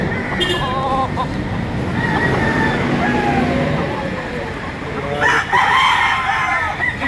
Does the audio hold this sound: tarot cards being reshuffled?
no